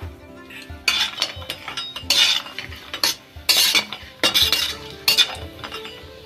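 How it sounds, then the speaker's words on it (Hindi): Lentil dumplings (bori) are fried in mustard oil in a pan for a Bengali fish curry, heard as repeated loud metallic scrapes and clinks of a spoon against the pan over a faint sizzle. "बड़ी को पहले फ्राई कर लेंगे तेल में।"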